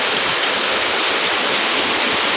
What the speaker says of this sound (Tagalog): Lakas ng ulan sa amin, oh.